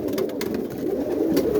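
Roller pigeons, a Birmingham-type spinning breed, cooing in a loft, with a low, throaty murmur rolling continuously and closely for the whole moment.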